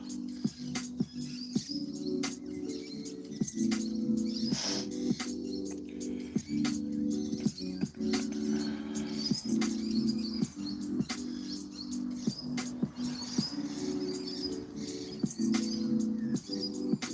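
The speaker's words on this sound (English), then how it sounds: "Birds are very loud." Birds chirp outdoors in a dense, repeated chorus of short tweets and calls over a quiet background hum, fairly close and lively throughout.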